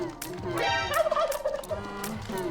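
A turkey gobble plays as a stream donation alert. The rapid, warbling bird call is repeated in several loud bursts, close up with no talking over it.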